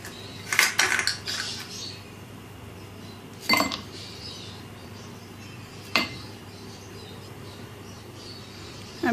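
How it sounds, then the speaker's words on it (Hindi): Ice cubes dropped into a serving glass for milk Rooh Afza sharbat, a cluster of bright clinks followed by two more separate sharp clinks, close and otherwise quiet. "अब इसको अपने सर्विंग ग्लास में डालते हैं। आइस क्यूब्स डालेंगे।"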